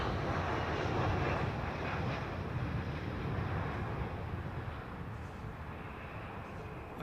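A jet airliner arriving at London Heathrow Airport, a steady distant roar with broadband rush and light wind noise, gradually fading as it passes, no talking.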